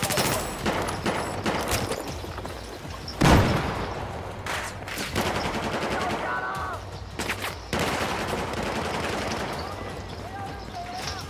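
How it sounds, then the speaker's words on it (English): Gunfire in Battlefield 4 crackles in rapid bursts and scattered single shots, with a loud close blast around the middle, while battlefield noise and a few short voice calls continue throughout. "I'm getting shot from the trench area."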